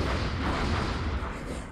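Overwatch reaction fire in Long War XCOM, a short burst of heavy rumbling gunfire with booming low thuds.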